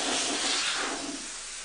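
Steam hisses steadily from the nozzle of a Pure i6 industrial self-descaling steam and vacuum cleaner, a loud, continuous broadband spray that eases off slightly toward the end, with no talking.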